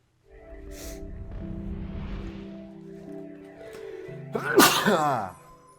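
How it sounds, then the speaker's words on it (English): A single sharp human sneeze bursts out near the end, preceded by a few seconds of low tonal background music. "you sneezed and it shattered into pixels"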